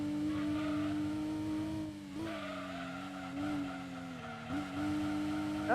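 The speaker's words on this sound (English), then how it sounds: "I really like the sound of this car." In a video game, a car engine holds a steady droning pitch that dips and climbs as tires skid and squeal through turns, loud and unbroken, with no talking.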